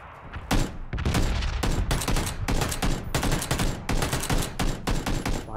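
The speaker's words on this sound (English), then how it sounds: "That was sad shooting on my part." Rapid bursts of gunfire in the PUBG battle royale game crack out close and loud in clustered volleys, shot after shot in an irregular rhythm with no pauses longer than a moment.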